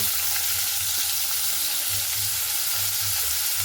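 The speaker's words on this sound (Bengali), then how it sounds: "এখানে পেঁয়াজটাকে খুব সুন্দর করে লাল লাল করে ভেজে নিতে হবে" Sliced onions frying in hot oil with whole cardamom, clove and cumin, a steady dense sizzle holding at an even level throughout, close and continuous with no voices.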